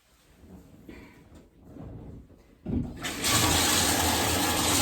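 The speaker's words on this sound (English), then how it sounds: "we're going to fill the tub up" Water rushes loudly from a tap into a bathtub, starting after a few quiet clunks and building to a steady, hissing pour.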